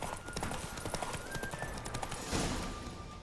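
Horse hooves clip-clop in a rapid, steady gallop in The Witcher 3 video game, close and loud over a busy, noisy in-game background.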